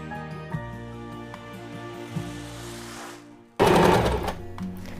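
A sewing machine stitches the sleeve seam of a ready-made kurti, running in a steady close whir, pausing, and then starting again louder near the end.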